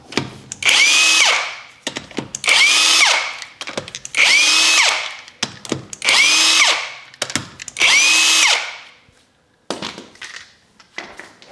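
A power tool with a 19mm socket spins off lug nuts on a Chrysler 200 front wheel, five loud close whirring bursts with pauses between, followed by quieter clinks of handling.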